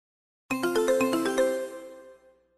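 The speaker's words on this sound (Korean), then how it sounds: "라흐만 씨와 고천 씨가 전화해요." A telephone rings with a quick series of bright chiming tones that then ring out and fade, heard clearly against silence.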